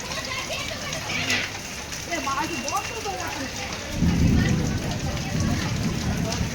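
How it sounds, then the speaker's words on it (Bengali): Steady rain pours outdoors during a stormy, windy day at a fish seller's market stall, a dense continuous hiss that swells heavier toward the end, with a voice briefly audible underneath. "আর এই বৃষ্টি সকাল ভোরের থেকেই ওয়েদারটা এরকমই আছে আজ"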